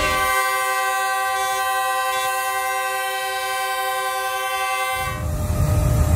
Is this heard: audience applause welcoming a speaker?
no